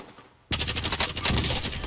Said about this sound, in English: What are they shooting at?